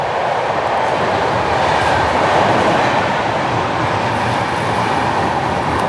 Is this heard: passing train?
yes